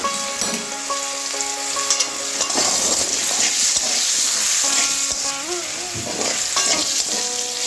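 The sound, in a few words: potatoes frying and sizzling in a pan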